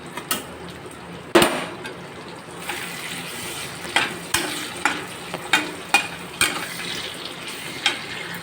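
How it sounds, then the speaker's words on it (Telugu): Tomato pieces fry with onions in a kadai, giving a soft steady sizzle broken by a run of rhythmic scraping and tapping from the stirring spoon, with one sharper clank near the start. "చూడండి, టమాటా ముక్కలు వేగుతున్నాయి"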